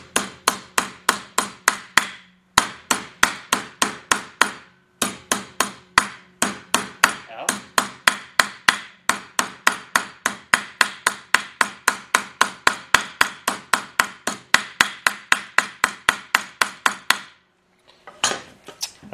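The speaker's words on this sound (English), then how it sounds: "Sometimes you can use this side of the hammer and work it like that and like that" Rapid, steady metallic hammer blows in quick bursts, ringing against a sheet metal body panel for a Willys CJ2A, with brief pauses between runs; loud and close.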